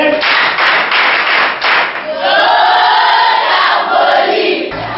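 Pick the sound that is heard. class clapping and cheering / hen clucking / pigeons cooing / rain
class clapping and cheering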